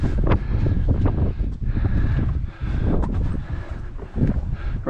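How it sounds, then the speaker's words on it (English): Wind on a mountain scramble up Browns Peak in the Four Peaks, roaring steadily across the microphone with gusty surges and brief lulls, loud and close throughout. "Man, that wind."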